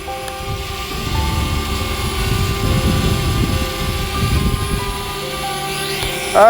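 Small DJI Spark drone hovering and flying near the Boise River, its propellers giving a steady buzzing whir with tonal harmonics, fairly loud and continuous throughout.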